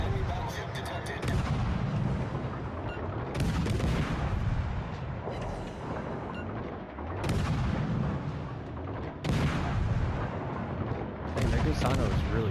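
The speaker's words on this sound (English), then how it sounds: "Concentrate fire on the enemy warship." Warship main guns firing at an enemy ship in World of Warships: Legends, heavy booming salvos arriving in repeated bursts a couple of seconds apart, loud and close over rumbling background noise.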